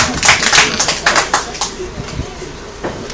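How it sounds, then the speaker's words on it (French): A church congregation claps in a burst of uneven, close applause that thins out over a few seconds, with voices mixed in. "Applaudissons les Seigneur."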